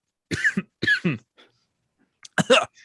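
Several short, sharp coughs come in two quick bursts, a pause, then another double cough, close and clear.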